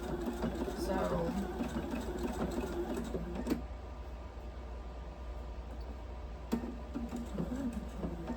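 A domestic sewing machine stitching steadily, a constant close mechanical hum with a few sharp clicks, while someone talks over it.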